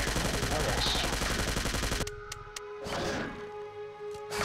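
Rapid automatic gunfire in the video game Jurassic Park Trespasser, a dense continuous burst of shots for about two seconds that cuts off, followed by scattered single shots and voices talking underneath.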